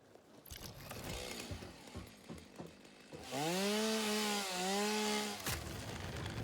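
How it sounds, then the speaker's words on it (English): A chainsaw in the factory-building video game Satisfactory, first busy cutting and crackling, then revving into a loud steady whine that dips once and holds before cutting off, close and alone. "Get the chainsaw out."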